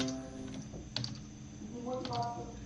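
Fingers type Arduino code on a computer keyboard. A few quiet, close key clicks come in short bursts against a soft background hum.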